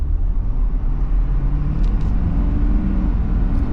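A 2023 Ford Super Duty diesel truck accelerates in a quick burst of power amid traffic, giving a steady low engine rumble that swells slightly, close and fairly loud.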